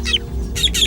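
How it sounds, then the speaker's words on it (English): A fork-tailed drongo gives an alarm call warning meerkats of a hunting eagle: three short, bright, buzzy bursts spaced through a second, with the first fainter and the later two louder, heard over a low steady rumble. "He spots an eagle on the hunt and sounds a warning."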